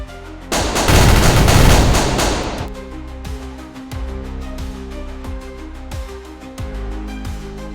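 Gunfire from the video game Execute: a loud dense burst of automatic fire for about two seconds, then a steady run of individual shots with an engine-like hum underneath.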